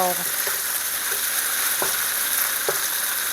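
Beef searing in a hot pan, a loud continuous sizzle and crackle heard close up, with a few faint knocks underneath and no talking.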